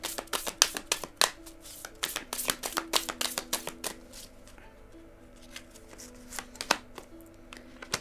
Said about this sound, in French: on va mettre 2 petites cartes pour avoir un message complémentaire